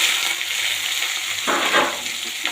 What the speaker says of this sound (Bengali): পেঁয়াজটাকে ভালো করে ভেজে